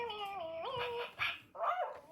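A small electronic toy dog yips and whines in a wavering, synthetic tone, a few short barks close by.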